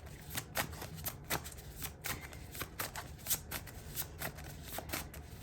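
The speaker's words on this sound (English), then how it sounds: "hopefully Spirit could give us cards a little quicker and then I wouldn't have to shuffle so much" Tarot cards being shuffled by hand in repeated quick riffling bursts, close and fairly quiet, with a faint low hum underneath and no talking.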